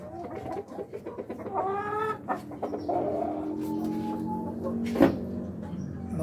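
Rhode Island Red breeder hens cluck and squawk in a cage on a farm, a close, irregular run of calls with a sharp louder squawk near the end and no talking.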